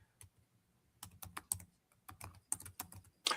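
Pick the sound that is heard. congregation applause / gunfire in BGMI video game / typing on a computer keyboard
typing on a computer keyboard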